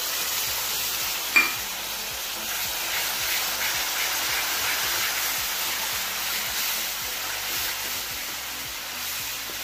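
Tomato paste cooking in hot oil with marinated egg, a steady broad sizzle and hiss throughout, with a brief clink near the start and no voices.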